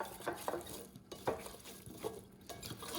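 Vegetables and asparagus being stirred and tossed in a pan to coat them, giving repeated soft scraping and clinking strokes in an irregular rhythm, close and fairly quiet, with no talking.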